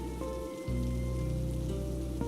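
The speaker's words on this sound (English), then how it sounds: "It's raining." Steady rain falls and patters on a surface in an animated story, a continuous wash of drops with a brief dip near the start, no talk over it.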